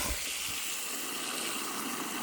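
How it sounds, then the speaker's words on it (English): Water pours into a freshly dug swale in the earth, a steady broadband rushing and gushing that stays even and fairly quiet throughout, with no talk. "Fill that up with water."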